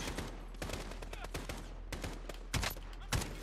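Warzone gunfire rattles out in quick, close bursts, several sharp shots clustered into a fusillade, with heavier cracks near the end.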